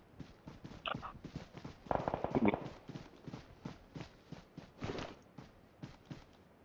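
An enemy player's footsteps in the video game PUBG Mobile: a steady run of quick, close thuds with a few louder, scuffing steps mixed in.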